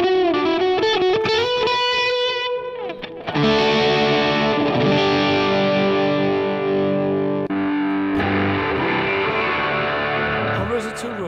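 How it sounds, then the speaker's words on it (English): An electric guitar run through a Mooer GE Labs amp-and-effects app on an iPad plays loud, distorted chords with an echo effect, a picked run of notes followed by sustained, ringing strummed chords that trail off. "stick an echo on there"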